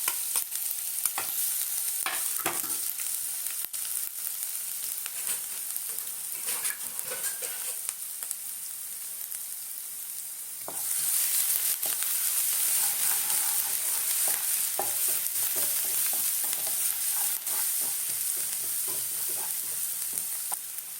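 Ginger, garlic and green chili fry in hot oil with whole spices such as cinnamon and fennel for majboos, giving a steady close sizzle with stirring scrapes that grows louder and denser about halfway through.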